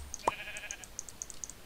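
Sheep bleating in Minecraft while being sheared on a farm, with one brief near bleat followed by a series of short, faint, evenly spaced clicks.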